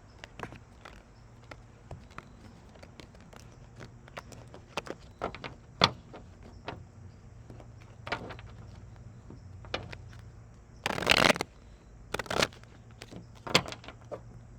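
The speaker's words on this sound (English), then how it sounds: "as I reorder my cards here" Tarot cards are shuffled and reordered by hand, giving scattered soft taps and clicks with a brief rustling riffle burst toward the end, close and fairly quiet, with no talking.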